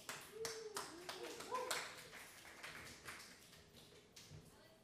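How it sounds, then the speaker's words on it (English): Scattered clapping from a small audience at a live music show in a bar, fairly quiet and uneven, with a few close hand claps, background chatter and some tonal sounds from the stage. "let's give him a round of applause"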